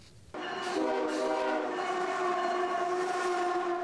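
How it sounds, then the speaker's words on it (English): A freight train horn blares with sustained harmonic tones over the steady rumble of a passing freight train in Watertown, loud and continuous after a brief quiet start. "Watertown is no stranger to the sounds of locomotives"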